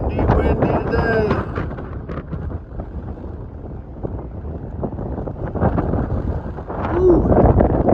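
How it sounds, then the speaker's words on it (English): Strong wind gusts roar across an open farm field, buffeting the microphone in continuous rumbling bursts, with a voice speaking. "Windy today."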